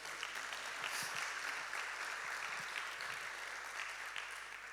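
A church congregation at a Volts Night 2024 service gives a round of applause to Jesus, a dense, even wash of many hands clapping that sounds a little distant and keeps going the whole time.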